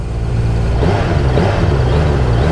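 A 2024 Suzuki Hayabusa motorcycle engine, a loud, close, low idle rumble that settles into a steady throb after starting, with no talk over it.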